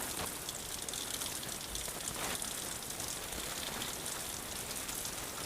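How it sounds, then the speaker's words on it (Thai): Steady rain patters directly onto a camera, a dense, close hiss of drops that goes on without a break, with no talking. "โดนฝนนะครับ"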